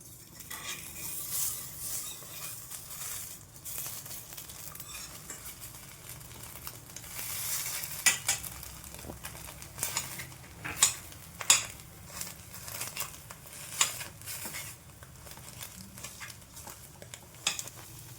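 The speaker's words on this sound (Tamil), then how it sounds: "இப்போ இதை நம்ம 1 inch 1 inch க்யூப்ஸாக நம்ம கட் பண்ணிக்கலாம்." Cooked egg being cut into cubes in a pan, heard as soft scrapes and light taps of a utensil against the pan, with a faint sizzle beneath and a cluster of sharper clicks near the middle.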